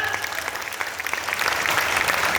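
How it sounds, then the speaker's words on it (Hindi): A seminar audience in Kolkata breaks into loud, dense applause that grows slightly stronger and fills the whole stretch, close and sustained. "एक बार जोरदार तालियां हो जाए सर के लिए"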